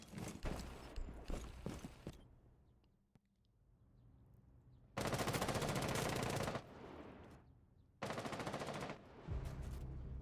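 Rapid automatic gunfire in a competitive video game match: loud, dense bursts of shots separated by quieter gaps, with several sustained volleys.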